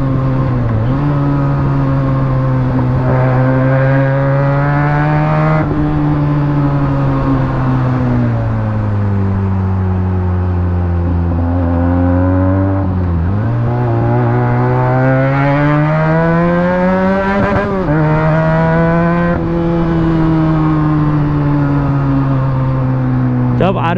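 A Benelli 300TNT motorcycle engine revs hard through the gears during a street race against a Honda City, its pitch climbing and dropping in sustained loud sweeps with no pauses.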